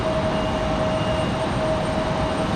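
An airliner at Raleigh-Durham International Airport spooling up its jet engines for the takeoff roll on a windy day, a loud, steady broadband roar with a thin whine running through it.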